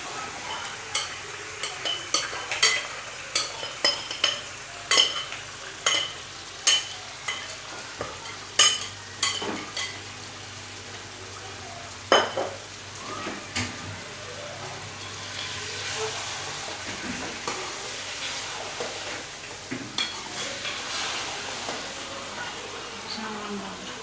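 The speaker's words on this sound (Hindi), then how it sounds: "अब इसमें मैं चिकन डालने लगी हूँ।" Chicken and onions fry in a karahi, a steady sizzle broken by a regular series of sharp spoon scrapes and knocks against the metal, close up, with the stirring easing into continuous frying later.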